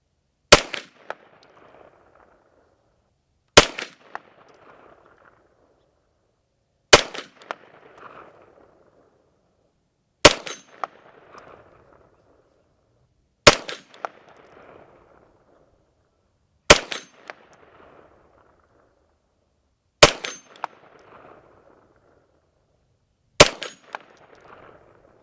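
A Stribog SP9A1 9mm blowback carbine fires Fiocchi 115-grain rounds over a chronograph. Eight sharp, loud single shots ring out at slow, even intervals about three seconds apart, each followed by a short echoing decay into quiet.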